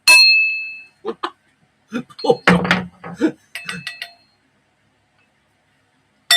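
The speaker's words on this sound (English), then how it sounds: "The landlady is ringing the bell." A single bright ring of a hand bell opens, then several scattered clangs and dings follow amid loud pub chatter and voices.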